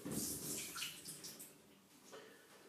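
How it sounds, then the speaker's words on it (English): Water is poured into a blender holding bananas, making a steady rushing, splashing stream that gradually tapers off. "Just pour the water."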